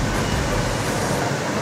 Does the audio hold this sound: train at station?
yes